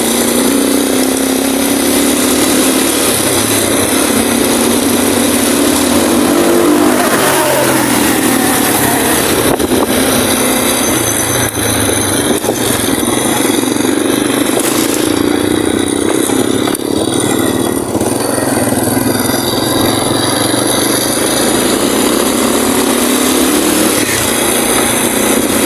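A motorcycle engine runs steadily and loudly up close during a test ride after the swingarm bushing was replaced, a continuous buzzing drone with slight shifts in revs and no talking.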